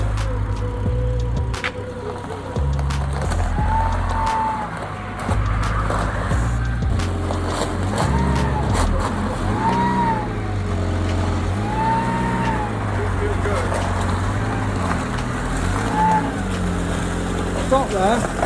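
A Peugeot 106 car engine runs steadily just after its first start following a rebuild, a low continuous idle with shifting tones as the car is manoeuvred, while people talk nearby throughout.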